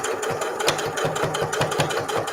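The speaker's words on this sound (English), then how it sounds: "I'm going to start right here at the opening and edge stitch" A sewing machine runs steadily, its rapid rhythmic stitching close and continuous as it edge stitches a fabric mug cozy.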